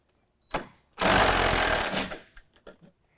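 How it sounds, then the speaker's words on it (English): A power ratchet or impact tool spins out a headlight bolt with an 8 mm socket, one loud buzzing burst of about a second, set between a few short clicks and clunks. "remove this bolt right here using an 8 millimeter"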